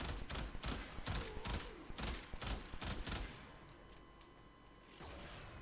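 A Burston Prime burst rifle fires in a video game, loud and close: rapid three-round bursts in quick succession, a pause, then a final burst.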